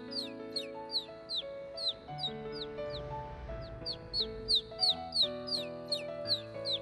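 A cartoon yellow bird chirps repeatedly in quick bright tweets over a playful children's music backing, the calls growing denser and louder toward the end.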